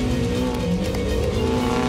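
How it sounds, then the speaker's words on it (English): A car racing down a racetrack's main straight, a loud, steady engine drone with layered harmonic whine that holds for the whole stretch, close and continuous. "That car's moving."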